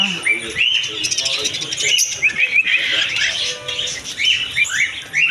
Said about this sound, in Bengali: প্রথমে বাজরিকা পাখির দেখা